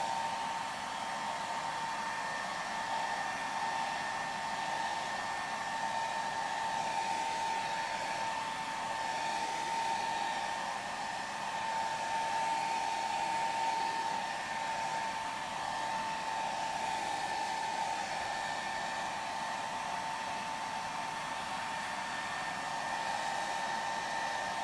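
A hair dryer blows over a watercolor painting, a steady close whooshing hum with a constant motor whine, unbroken for the whole stretch and with no voices.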